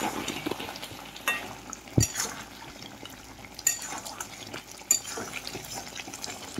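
A spoon stirs lightly fried onion, tomato and green chilli into a pan of chicken dopiaza. A soft steady sizzle runs throughout, broken by a few sharp scraping knocks against the pan.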